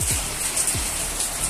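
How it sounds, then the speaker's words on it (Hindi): Heavy rain falls steadily on a rainy Noida morning, a dense, even hiss of drops that fills the whole clip at close range, with no voices. "आज हो रही है बहुत बारिश। बारिश हो रही है, इट्स रेनिंग"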